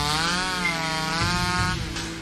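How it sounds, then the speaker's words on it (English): A chainsaw in the horror video game Mad Father runs at a steady, loud, close drone with a sustained buzzing whine that eases off slightly toward the end. "Chainsaw. This dude knows how to party."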